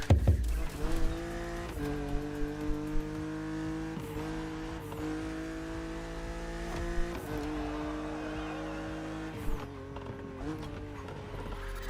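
A BMW Z roadster in the racing game The Crew Motorfest cruises with a steady engine drone, holding tone, then shifting up and down through gears in a series of rises and falls.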